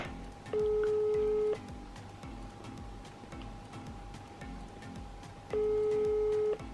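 An unanswered phone call's ringback tone, two long steady tonal beeps about four seconds apart, clear and close, with quiet background noise between them.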